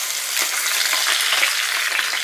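A halibut fillet flipped in a hot pan, giving a loud, steady sizzle with crackling spatter throughout and no talking.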